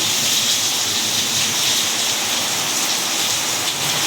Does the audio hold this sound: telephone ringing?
no